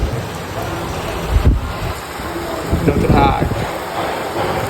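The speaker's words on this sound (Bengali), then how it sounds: "বৃষ্টি এখন হয়ে যাচ্ছে" Rain falls steadily at a wedding reception pandal, a dense, even patter with a few heavier thumps and splashes.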